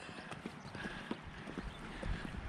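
Horses walk toward the listener outdoors, their hooves giving soft, irregular clip-clop steps against a faint windy background, quiet and fairly close.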